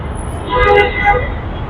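The rumble of a Dhaka Metro Rail train at Bijoy Sarani metro station, with a brief tonal horn-like sound rising over the steady background noise.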